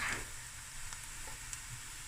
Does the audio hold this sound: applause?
no